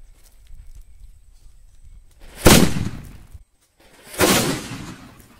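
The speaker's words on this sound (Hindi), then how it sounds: "सबसे पहले टेस्ट करने वाले हैं इस वाले सद्दाम के हाइड्रा बम को" Two Saddam Hydra Bomb firecrackers bursting at a Diwali test, each a sharp loud blast with a short rumbling tail, a couple of seconds apart after quiet.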